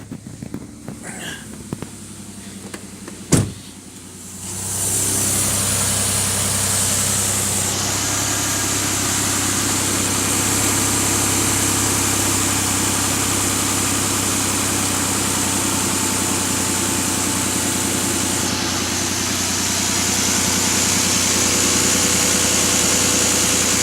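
A Ford Escape 3.0L V6 with a cylinder 6 misfire starts up after a few clicks and knocks, then idles steadily for twenty seconds with a constant drone and a faint uneven pulse in its rhythm.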